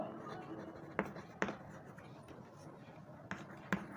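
A pen scratching out a handwritten maths solution on arithmetic progression, faint continuous scribbling punctuated by a few sharp taps as strokes land, close and quiet, with no talking.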